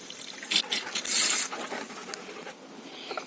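Water gurgles and splashes in bursts as a car's cooling system is filled, with trickling and patter that rise, peak briefly, then settle into quieter dribbles.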